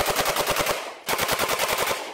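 Bump-fired firearm letting off rapid gunfire: two fast strings of loud, close shots with a brief pause between them and no talking.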